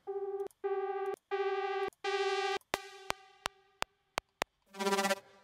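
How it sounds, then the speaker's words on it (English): Short bursts of a buzzy synth tone repeat in a rhythm, then crisp white-noise clicks tick in a fast pattern before a noisy burst at the drop of an electronic track. "So you might have noticed just before the drop a little clicking sound"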